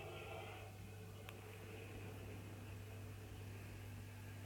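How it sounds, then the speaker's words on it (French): A dishwasher runs as a steady, quiet mechanical hum with faint whooshing water noise, continuous throughout, with one brief click partway through. "Excusez-moi si c'est un peu de bruit, c'est la lave-vaisselle qui tourne."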